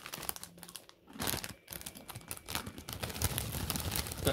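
Crinkling of a 45 gram bag of McCoy's cheddar and onion ridge cut crisps, a close, continuous rustle and crackle of foil packaging with brief pauses, heard alone.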